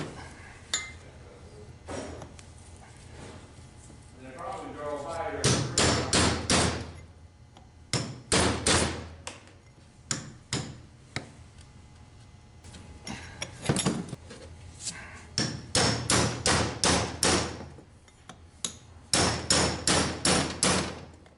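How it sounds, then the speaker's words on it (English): Front pump seal being driven out of a 4R75W automatic transmission, a series of sharp metallic hammer blows in quick bursts with pauses between, close and fairly loud. "I'm going to take this front pump seal off."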